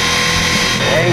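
A homemade electric trolling motor built from an angle grinder and run on 24 volts drones with a loud, steady, close-up whine, and a voice talks over it.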